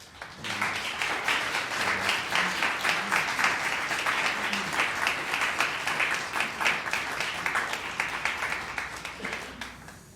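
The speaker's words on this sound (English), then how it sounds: "I'd like you to give her applause" A concert audience applauds the daughter of composer Cornel Țăranu at a memorial concert, a full, even round of clapping that swells in and carries on for about ten seconds before tapering slightly.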